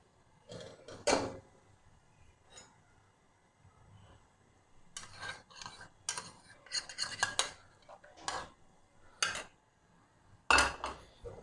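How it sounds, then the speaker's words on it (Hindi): Yogurt is stirred into chicken karahi in a cooking pot, with intermittent scraping and clinking of a spoon against metal. Strokes come in irregular bursts separated by quiet pauses, close and fairly soft. "दही डाल देते हैं। दही को मैंने फेंट लिया था।"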